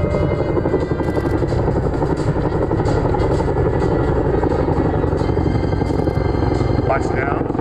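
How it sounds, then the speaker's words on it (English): A US Army CH-47 Chinook tandem-rotor helicopter performs a pedal turn at an airshow with its rear cargo hatch open. Its deep, steady rotor thrum and engine roar stay loud and close throughout. "Watch now as Sean demonstrates a pedal turn"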